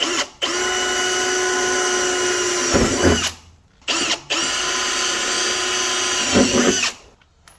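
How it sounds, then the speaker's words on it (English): A power drill bores holes through an Axys snowmobile tunnel to mount an MTNTK tunnel cooler, running as two long, close, steady whining bursts with brief stops between them and no talk. "We're just going to go ahead and get them all drilled."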